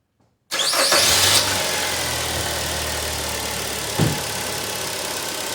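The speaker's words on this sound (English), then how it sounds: "As you can hear, the engine cranks very strong." A car engine with a dead battery and a failing alternator fires up and settles into a steady, fairly loud idle, with a brief bump partway through, heard alone without talk.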